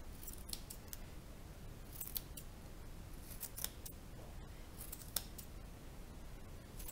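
Scissors trim angora rabbit wool in quick, close, irregular snips over a faint background hiss, with no talking.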